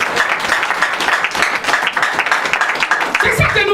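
A church congregation applauds and cheers during a sermon, with dense, sustained clapping mixed with voices throughout and no clear pauses.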